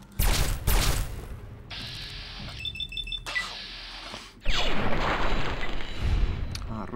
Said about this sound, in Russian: Хороший выстрел.